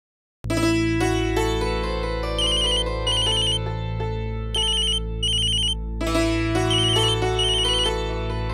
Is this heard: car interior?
no